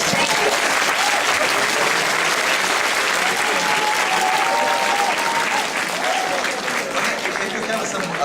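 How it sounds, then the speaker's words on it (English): Sustained audience applause fills a cosplay panel at the Aniventure 2014 convention, steady and dense throughout, with a faint voice briefly audible partway through. "thank you guys for all the applause"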